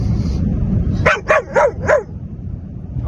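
A Belgian Malinois gives four sharp, evenly spaced barks close to the microphone, set over a low rumbling background, with quiet noise before and after.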